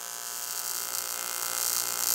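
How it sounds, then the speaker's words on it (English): TIG welder running a proper weld bead along a joint with filler rod, a steady close electric buzz and crackling hiss lasting the whole moment, no talking. "So I just go for the proper weld."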